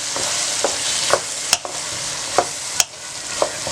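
Sabzi of ridge gourd being stirred and mixed in a hot pan, heard as a close, steady sizzle broken by several sharp spatula scrapes and clanks at irregular intervals.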